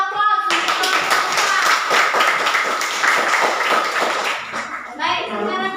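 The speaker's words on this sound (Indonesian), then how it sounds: "kita berikan aplaus untuk kelompok" A classroom audience claps for a student group after its presentation, a dense burst of clapping lasting several seconds before a voice resumes speaking near the end.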